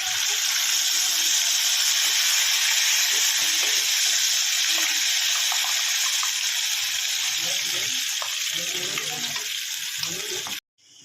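Cumin seeds fry in hot oil in a home kitchen, giving a loud, close, continuous sizzling hiss sprinkled with small crackles that runs without pause until an abrupt cut near the end.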